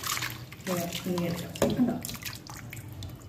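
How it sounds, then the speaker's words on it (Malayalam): Cauliflower pieces are swished and rinsed by hand in a bowl of water for gobi manchurian, giving soft splashes and drips while a person talks over it. "നമ്മൾ ചെയ്യണത് ഇതിലെടുത്തിട്ട് നമ്മൾ ഇങ്ങനെ കൈകൊണ്ട് കഴുകി"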